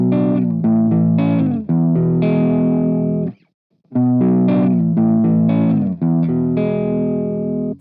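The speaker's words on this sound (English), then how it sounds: "it's kind of just a, old boring, dry, clean channel" Electric guitar played through the Rockergain 100 amp plugin on its clean channel, a dry chord-driven phrase with strummed chords ringing out, loud and alone, with a short pause midway.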